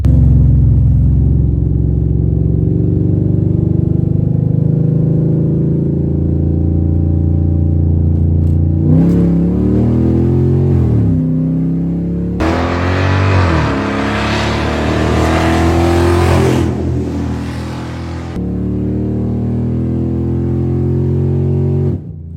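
A loud car engine leaving a car show rumbles and revs repeatedly, rising in bursts of throaty roaring before settling back to a heavy idle, close by with no talking.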